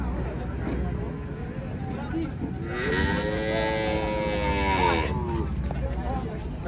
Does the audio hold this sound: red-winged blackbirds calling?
no